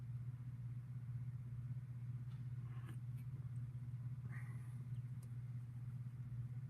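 A golf car running at a steady low hum, its motor drone constant and fairly quiet throughout, with a few faint clicks and rattles on top and no one talking.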